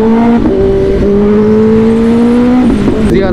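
A Kawasaki ZX-10R sport bike ridden on a highway, its engine loud and close, revving steadily through sustained high-pitched tones with quick gear shifts around the half-second, one-second and near the end.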